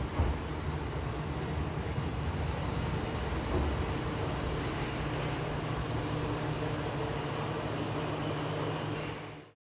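Interior of a local train riding through Kyushu, Japan, a steady rumbling cabin drone with low engine hum throughout, continuous and moderately quiet, ending abruptly.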